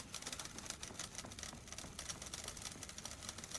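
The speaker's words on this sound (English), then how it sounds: "Okay, but all the typewriters aren't stopping now." Several typewriters clack at once inside Alan Wake 2, a dense, steady patter of quiet mechanical keystrikes with no pauses and no voices.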